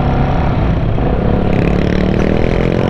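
Loud, steady whir and clatter from a motorbike's cooling fan, louder than its idling engine, running close by without a break amid a busy outdoor bike meet.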